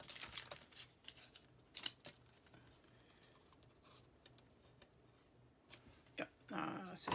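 Scissors snipping paper at a crafting table, a few sharp crisp cuts spaced apart among quiet rustling and handling noises, fairly faint and close.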